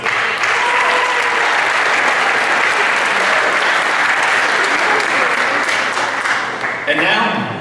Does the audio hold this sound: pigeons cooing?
no